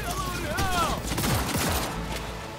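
Rapid bursts of Cyberpunk 2077 gunfire crackle through the clip, mixed with game sounds and a voice rising briefly in the background.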